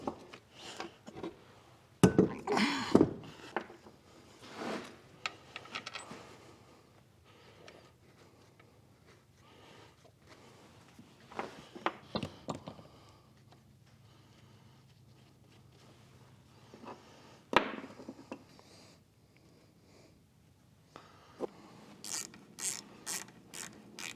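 Quiet metallic clinks, ratcheting and scattered taps from bolts being fitted during a water pump repair on a Cat D6C dozer, with short bursts of handling noise between pauses.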